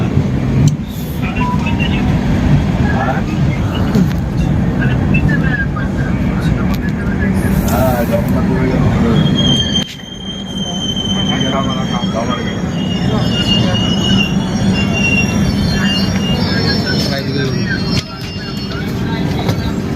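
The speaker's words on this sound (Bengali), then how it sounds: "তারপরে একটু ওয়েট করার পরে ট্রেন ঢুকছে ভুবনেশ্বর" A passenger train pulls into Bhubaneswar station with a loud, continuous rumble of wheels and carriages. High, thin wheel squeals rise over the noise, and voices talk throughout.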